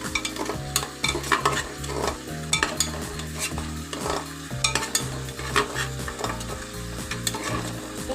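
Chicken is stirred with salt, chili powder and spice powders in a pot, with rhythmic scraping and clinks of a spoon against metal over a continuous sizzle.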